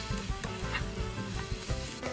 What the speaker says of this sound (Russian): И все тщательно перемешиваем, чтобы не осталось никаких комочков.